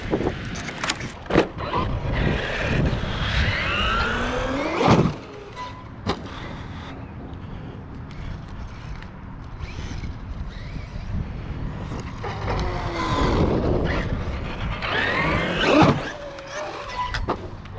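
Traxxas Maxx V2 RC car on 5S power with a Hobbywing Max 8 2200kv setup, motor whining and rising in bursts as it accelerates, with loud sharp impacts and bumps, then a quieter stretch before another run.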